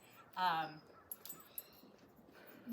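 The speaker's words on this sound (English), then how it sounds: "got a little barky puppy over here" A single high-pitched puppy yelp or bark up close, followed by faint scuffling and small noises, then a short whine at the end.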